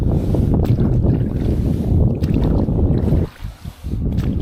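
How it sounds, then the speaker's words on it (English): Wind blowing over a gaff-rigged trailer-sailer cruiser, a loud, close, steady low roar of buffeting against the microphone that briefly dips near the end, no talking. "Wind's coming from the long way now."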